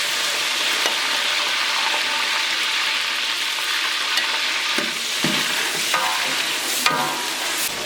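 Onions frying in oil in a large pot for degi-style chicken korma, one litre of oil for eight kilograms of chicken, with a steady hiss of sizzling and scraping stirs that get more frequent toward the end; no one speaks.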